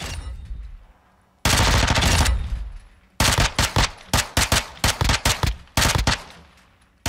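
Bursts of close, loud automatic fire from a 9x19 MP5A3 submachine gun in Call of Duty Modern Warfare II, hip-fired at near targets: one long sustained burst, then a string of short, sharp bursts with brief pauses between.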